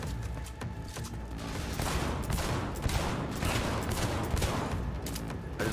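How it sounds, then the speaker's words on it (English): Sustained gunfire from the video game Cyberpunk 2077 rattles on throughout, a dense stream of overlapping shots and bursts at steady loudness with no pauses. "I just missed all my shots."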